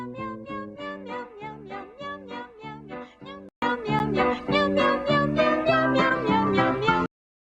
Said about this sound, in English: The Meow Mix song.